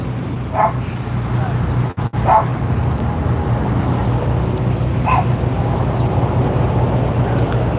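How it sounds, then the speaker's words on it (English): A small dog barks a few times in short, sharp bursts at a middle distance, heard outdoors in Memphis over a steady low rumble of wind and wheel noise from a ride. "That little dog wants a piece of my ankle or shin or knee or something."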